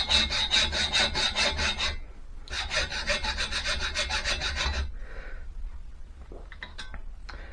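Hand saw or file cutting the cylinder fins on an Ariel Bantam motorcycle engine, rapid rhythmic rasping strokes in two close bursts separated by a brief pause, then quieter scraping and small clinks.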